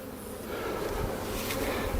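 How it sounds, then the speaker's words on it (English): Honeybees hum in a dense, steady drone from a crowded hive opened for inspection after a Demaree manipulation, on a wet day with little nectar; close and continuous, with no voices. "Still a lot of bees in here."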